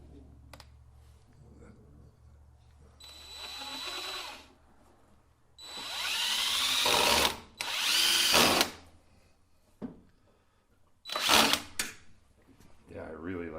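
A power drill drives screws into wood while a cheap duck house is built, giving several short, loud whirring bursts separated by pauses, close by, with quieter handling noises between.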